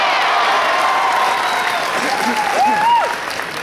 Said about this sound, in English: that crowd must be cheering